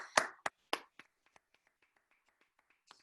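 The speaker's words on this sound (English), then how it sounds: "applause goes hard through Zoom, but we try" Sparse applause over a Zoom call at the end of a talk, a few faint, scattered claps fading into isolated taps, quiet and thin.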